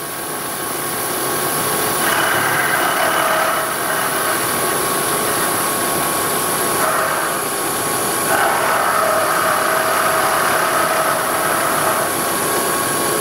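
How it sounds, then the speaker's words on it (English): A lathe takes a light skim cut across the end of a metal part for etching press vertical supports, with coolant applied; a steady machine drone runs throughout, with slightly louder cutting passes swelling in and out. "Now I just want to take a skim cut off of this end here."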